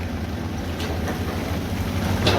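A Caterpillar CAT 320D common-rail excavator engine runs with a steady low rumble and broad noise, close and loud, with no voices.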